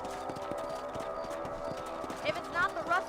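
Horse hooves clip-clop steadily in the Red Dead Redemption video game, a regular beat of hoofbeats running through the whole stretch with a bit of other game sound over the final second.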